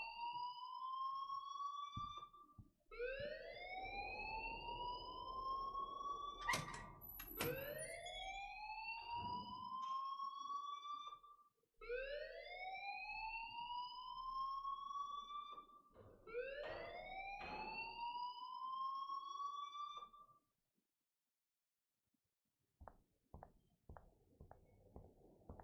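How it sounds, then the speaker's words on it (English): An alarm in the DayZ video game rings in repeated rising wails, several long sweeping tones in a row, loud and steady, with a few sharp clicks and thumps between them before it stops and a short quiet gap follows. "please turn off that alarm since that's your job"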